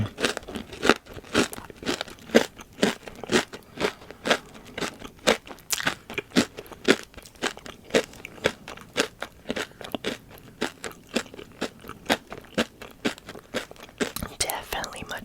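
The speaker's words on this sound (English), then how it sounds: "I kind of wanted you to hear the difference between the crunch of a hard crystal candy and like a sour crystal candy" Hard crystal candy is crunched up close in slow, regular bites, each giving a sharp crackling crunch, with soft whispered talk between them.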